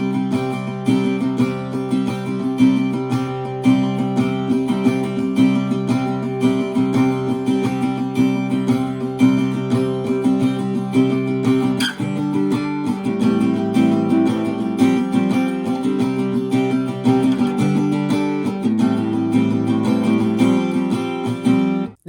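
Strummed acoustic guitar plays through the first chorus of a song, Old Phone Pub version, a continuous stretch of rhythmic chords with a brief accent and change in texture midway, close and steady throughout.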